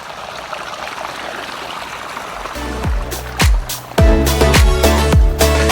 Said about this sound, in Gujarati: પાણી આવે છે